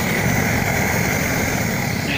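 A ZAZ car heater blower fan runs steadily and close in the cab of a T-25 tractor, a constant airy whoosh with a high whining tone layered on top, unchanging throughout.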